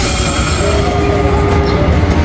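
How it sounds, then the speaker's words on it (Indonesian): The Pangrango passenger train from Bogor to Sukabumi arrives at a station, rumbling close by with rolling wheel noise and a thin metallic squeal of wheels on rails, steady and loud. "Kereta api Pangrango Bogor Sukabumi sudah mulai masuk dari stasiun Bogor."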